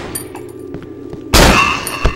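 A sudden loud gunshot bursts from the Cry of Fear video game, close and sharp with a short ringing tail after a quieter stretch of soft game ambience and faint taps.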